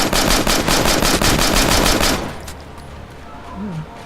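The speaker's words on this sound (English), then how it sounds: "That's some damn fine shooting, if I do say so myself." Dense automatic gunfire in the State of Decay video game, rapid bursts hammering loudly for about two seconds before cutting off into quieter background ambience.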